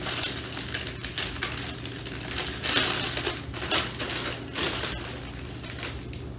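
Chips crushed for coating barbecue-sauced hot dogs crunch and crackle loudly up close in repeated bursts of crumbling, with no talking.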